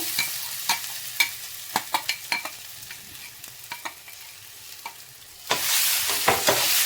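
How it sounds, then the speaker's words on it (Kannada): Spoon stirring a rava mixture in a ghee-coated pan for jackfruit laddu, with a steady series of close, crisp scraping strokes over faint sizzling that swells louder near the end. "ತಳ ಹಿಡಿದೇ ಇರೋ ರೀತಿ ನೀಟಾಗಿ ನಾವು ಚೆನ್ನಾಗಿ ತಿರುಗಿಸ್ಕೊತಾ ಇರಬೇಕು"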